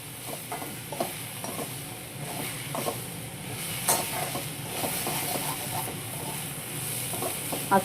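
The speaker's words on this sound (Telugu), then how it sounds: "అట్లా ఇంగో వేసేసుకుని ఇలా కలిపేద్దాం" Spoon stirring asafoetida (hing) into rice rava pulihora in a pan on the stove, a steady soft scraping and light sizzle running throughout at moderate level, with no talk.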